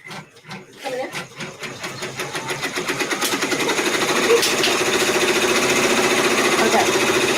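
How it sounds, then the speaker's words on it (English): A multi-needle embroidery machine stitches satin stitches around quilt blocks, starting with a few separate thumps and building into a fast, steady mechanical rattle that stays close and loud. "it's going to be stitching for probably about 20 minutes doing those satin stitches all around those rainbow blocks"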